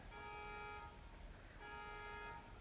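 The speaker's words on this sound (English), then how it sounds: "What are you honking for?" A car horn sounds outside near a home garden, giving two short, steady toots separated by a pause; both are faint and distant, with no talking.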